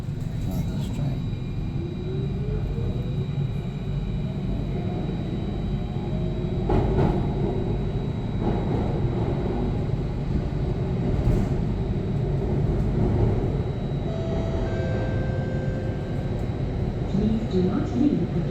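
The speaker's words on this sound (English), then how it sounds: "driverless train." A driverless metro train in Singapore, riding toward Mountbatten station, makes a steady, loud low rumble inside the carriage that continues without a break, with brief faint swells.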